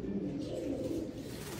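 Low, steady cooing of a pigeon held close by, a continuous throaty murmur with no talk over it.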